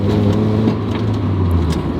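A racecar engine drones steadily at close range with a shifting tonal note, held at a loud, even level through a brief gear change.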